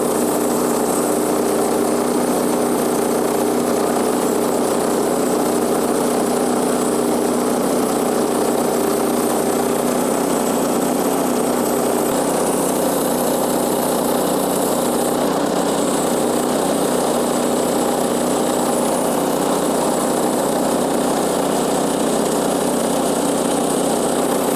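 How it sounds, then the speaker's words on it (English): A sawmill runs continuously with a loud, steady engine drone and broadband roar, close by and unbroken, with no voices. "I actually made these on my sawmill, and I'll give you a glimpse"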